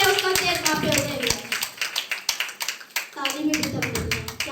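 Congregation at a Hindi church service clapping in praise: a dense, rhythmic burst of many hands clapping together, close and loud, mixed with voices speaking and singing.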